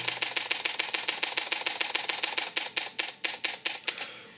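A rapid burst of shutter clicks from a Fujifilm X-E2 camera fires in a steady rhythm, about twenty in a row, slowing slightly and turning more spaced near the end as it writes to a slow SD card.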